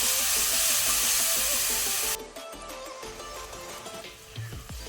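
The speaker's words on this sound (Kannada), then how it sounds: "ಈಗ ನಾನು ಫ್ಲೇಮನ್ನು ಲೋಲ್ಲಿ ಇಟ್ಕೊಂಡು ಟೊಮ್ಯಾಟೊ ಹಾಕೊಳ್ತೇನೆ. ಟೊಮ್ಯಾಟೊ ಸ್ವಲ್ಪ ಫ್ರೈ ಮಾಡ್ಕೊಳ್ಳುವ" Tomatoes fry in a pan over a low flame while an egg green masala gravy is being made. A loud, bright sizzle hisses for about two seconds, then drops to a quieter crackle with light clinks.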